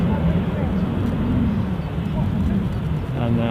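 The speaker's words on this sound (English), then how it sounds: "Stay with this incoming Prague flight for a few seconds" An incoming Prague flight approaching Edinburgh airport gives a steady, loud, broad jet roar with a low rumble that holds unbroken throughout.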